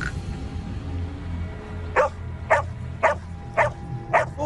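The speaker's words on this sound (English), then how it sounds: "his dog, which was normally pretty well behaved, started going crazy, barking, acting as if it was in distress" A dog barks agitatedly in the woods, five evenly spaced barks about half a second apart, fairly close and loud over a low background hum.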